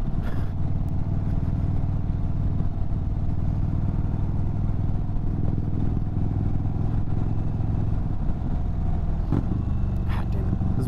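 A 2022 Indian Chief Bobber Dark Horse motorcycle is ridden on a chilly morning, its engine droning continuously and loudly with wind rumble, close to the microphone throughout.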